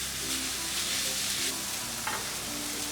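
Chopped onions sautéing in a pan, a continuous close sizzle with soft stirring scrapes and a few spatula knocks, no voices.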